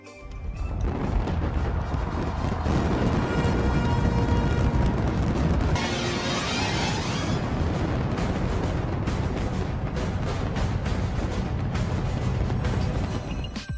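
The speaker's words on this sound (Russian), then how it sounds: "Ну а ровно в полночь начинается праздничный фейерверк." New Year fireworks at midnight in the United Arab Emirates: a dense, continuous barrage of booms, crackles and bangs, loud and sustained throughout with no pauses.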